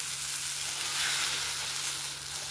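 Dosa batter sizzling on a hot pan, a steady, close hiss of frying that holds evenly without pause, with no talking.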